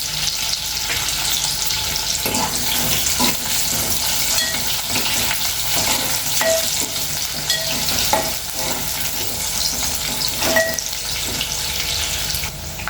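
Onions and dried red chillies fry steadily in a pan, a continuous close sizzle and hiss with occasional stirring clicks and scrapes.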